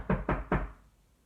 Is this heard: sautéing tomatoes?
no